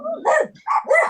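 Indoor dogs bark in a house with five dogs, a few quick loud close barks with whiny yips in a short burst.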